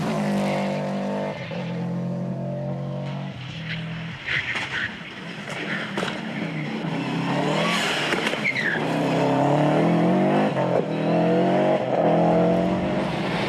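Rally cars at the 1998 Cavan Stages Rally, including a Subaru Impreza, roaring along a stage with loud, sustained engine noise that rises and falls as gears change, with tire squeal and skidding close by.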